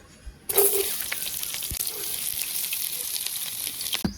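Chopped onion and garlic hit hot oil in a pan, sizzling loudly from the start and frying steadily and close with occasional scrapes.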